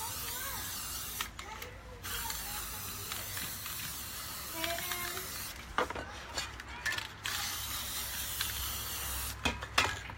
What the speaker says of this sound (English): And I'm easing off the can when I spray.